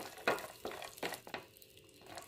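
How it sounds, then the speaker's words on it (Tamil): Cashews frying lightly in a pan over medium heat, a soft sizzle broken by four or five distinct stirring scrapes, close and fairly quiet, no voices. "லைட்டாக ஒரு ஃப்ரை பண்ணால் போதும்"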